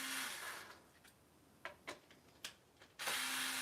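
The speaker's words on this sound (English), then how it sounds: "Hopefully this drill's not too loud." An electric drill runs during general repairs, whining loudly for a moment, dropping to a near-quiet stretch with a few soft clicks and knocks, then starting up again strongly near the end.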